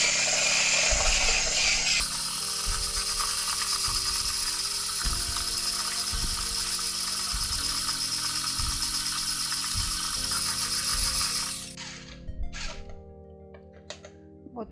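An electric mixer whips butter for a Prague cake, a steady loud whirring drone with rhythmic low clunks as the beaters turn in the bowl, running continuously before cutting off near the end, leaving faint clatter.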